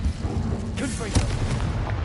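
A Confringo fire-blast spell goes off in the game Hogwarts Legacy, giving a loud, booming burst with rumbling crackle over a dense game soundscape.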